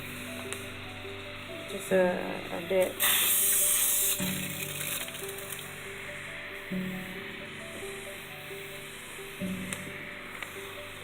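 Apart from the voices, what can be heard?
spray bottle misting sprouts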